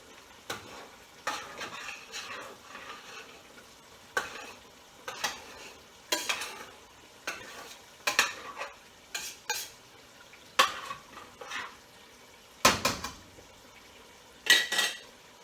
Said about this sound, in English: And then you stir it,